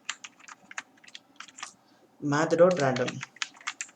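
Keys clatter in quick irregular bursts on a computer keyboard while JavaScript code is typed, pausing as someone speaks briefly in the middle, then resuming.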